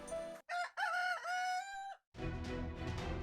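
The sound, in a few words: chicken crowing in Fate/Grand Order video game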